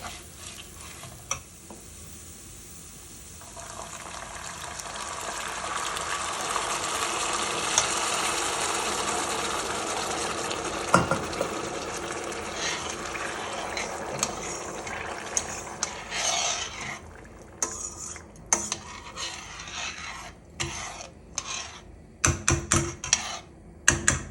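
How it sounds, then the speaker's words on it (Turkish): Water is poured into toasted rice for pilaf in a pot, a steady broad filling gush lasting several seconds amid stirring and sizzling, ending in scattered clinks and scrapes; no talking. "Şimdi suyunu ilave edebilirim artık."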